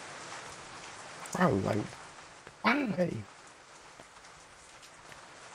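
Steady rain falls in the indie horror game Kiosk, a constant hiss that carries on beneath two short bursts of someone talking.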